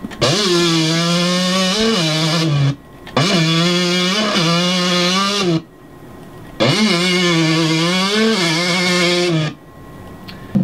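A 125 motorbike engine from the video game MX vs ATV Alive, played as three long sustained revs, each holding a steady droning pitch with slight wavering, separated by short silent gaps, loud and close.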